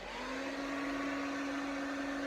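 A hair dryer fitted with a narrow nozzle blows while drying hair in a barbershop, a faint, even whirring hum with a steady whine, continuous and uninterrupted.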